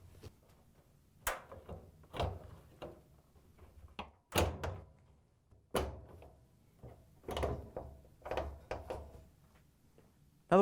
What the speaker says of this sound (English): then we can put the bulkhead in place and lock the tabs into the cabinet